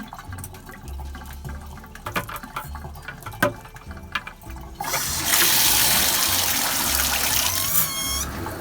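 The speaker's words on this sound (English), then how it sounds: "Now I'm going to add more water." Water gushing into a Wonder Wash hand-cranked, non-electric washing machine, a loud steady rush that starts after several seconds of quieter clattering and handling.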